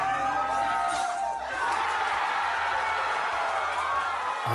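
A large crowd in a Game of Thrones scene cheers and murmurs in a steady, loud wash of voices that swells briefly near the middle, with someone talking over it.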